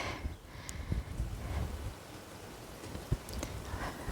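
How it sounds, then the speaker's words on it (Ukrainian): Soft, steady rain patters faintly in a garden with a few louder drops and light wind, no voices. "Дощить."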